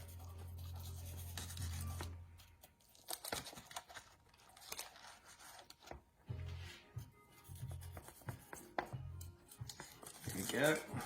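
A knife cuts through a baked zucchini and feta slice on a board, with rubbing, scraping chops and crinkly rasps at varying loudness, close up, alongside intermittent low hum and handling noise.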